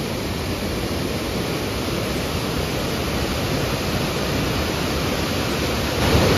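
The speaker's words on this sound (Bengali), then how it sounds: "এই যে গেটটা থেকে দেখুন একদম পুরো ফুল ফোর্সে জল বার হচ্ছে" Water gushes at full force through an open gate of Lipania Dam in Purulia, a loud, steady broadband roar that holds unbroken throughout and swells slightly at the end, with no voices.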